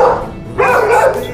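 Dogs at an animal shelter bark and yip in loud, close bursts, a couple of overlapping barks filling the short stretch with a kennel echo.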